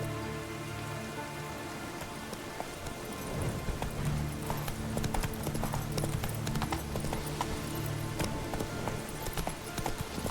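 Roach, Geralt's horse in The Witcher 3, galloping with steady rhythmic hoofbeats over an ambient game soundscape that grows busier partway through, moderately loud with no voices.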